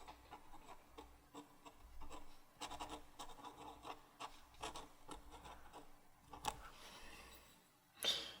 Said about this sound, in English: You can probably hear Sammy scratching in the background there